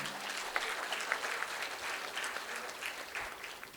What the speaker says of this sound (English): Let's hear a huge round of applause for all of them.